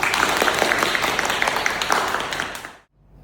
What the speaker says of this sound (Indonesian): Kasih aplaus dong untuk Elsa